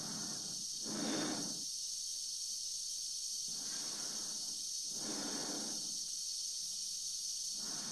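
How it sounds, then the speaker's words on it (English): A man in a space suit breathes slowly while floating in space in a movie scene: long hissing inhales and exhales repeat about every two seconds, close and steady over a constant faint hiss, with no talking. "a 10-minute scene of a guy floating in space where all you can hear is him breathing"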